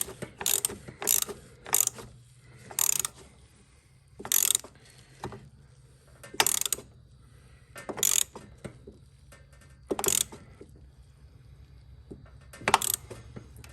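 A wrench tightens the oil drain plug on a Kohler lawn mower engine, giving about ten short ratcheting bursts spaced irregularly, close and crisp, separated by near silence.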